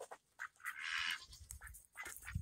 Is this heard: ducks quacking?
yes